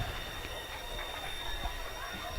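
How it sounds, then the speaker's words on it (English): A train rumbles steadily past near a high school football stadium during a Mt. Vernon versus Carbondale game, a continuous broad roar with a faint high whine, fairly loud and unbroken. "That's actually a train, but that's probably what they're thinking."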